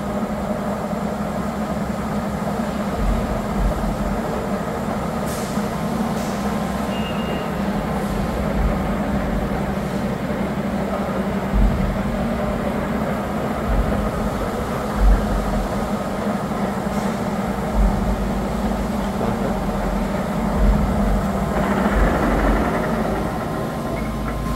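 A Tos SU-125 heavy duty engine lathe runs steadily with a continuous low mechanical hum and drone, close and unbroken, with a few faint knocks and clicks over the top and no talking.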